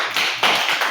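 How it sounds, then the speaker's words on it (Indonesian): A church congregation claps for its servants, a brief burst of loud, dense hand claps repeating in about three quick surges. "Tepuk tangan buat para pelayan Tuhan."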